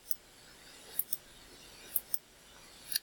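Calculator keys are pressed in a series of faint, sharp clicks, roughly one per second, over a quiet background hiss.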